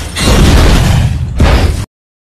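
A ship blows up in a film scene: a loud, heavy, roaring blast fills the first second and a half, then a second burst follows before an abrupt cut to silence.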